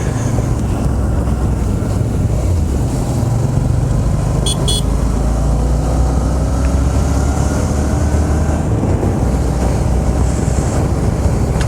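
Motorcycle engine held at steady throttle on a cold, cloud-covered mountain road on the way from Zuluk to Nathula Pass, a loud continuous drone mixed with heavy wind rush.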